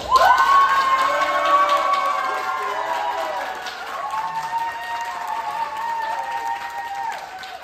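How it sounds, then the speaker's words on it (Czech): A studio audience at a televised dance competition applauds and cheers loudly for a dance couple, with whoops and high shouts over sustained clapping that fades slightly midway and then swells again. "Poprosím, ohromující a hlasitý potlesk pro pár číslo 1."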